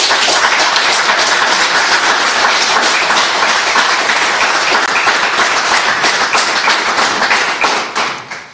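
An audience applauds Davit Hambardzumyan with dense, sustained, loud clapping that runs unbroken for several seconds, then tapers off quickly at the end.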